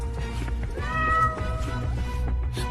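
A cat meows in an animated drama, one drawn-out tonal meow up front against a low background score, fairly close and clear.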